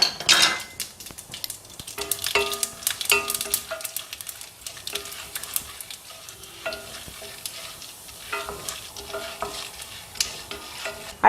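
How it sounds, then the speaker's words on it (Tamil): Mustard seeds and chana dal frying in hot oil in a pan for poori masala, crackling and sizzling close up, with frequent spoon stirs and metallic clinks against the pan. "இப்போ பாருங்க எண்ணெய் சூடாயிருச்சுங்க. அதில் நம்ம கடுகை போட்டுக்கலாம்."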